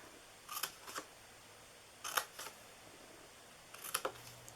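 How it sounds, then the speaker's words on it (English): Scissors snip the corners of a handmade paper treat box in three quick, quiet bursts of two or three crisp cuts each, separated by pauses, up close with no talking. "Then we're going to cut these corners here."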